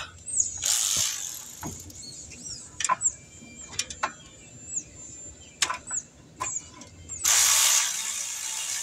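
Ratchet clicking in short bursts while tightening an alternator bolt on a 2008 Hyundai Accent, with brief bursts of harsher noise at the start and end, close and fairly loud, no talk.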